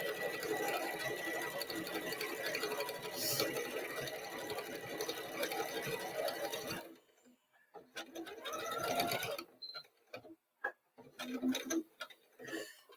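A sewing machine runs steadily through a decorative stitch while finishing a divided drawstring bag, its fast rhythmic whirring close by, then stops and restarts in short bursts with quieter gaps and small clicks.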